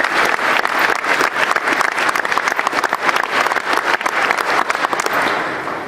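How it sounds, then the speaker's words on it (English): Loud, dense applause from a large audience, honoring volunteers at a team event, steady and sustained throughout with no talking over it. "I'd like to give them a great big round of applause"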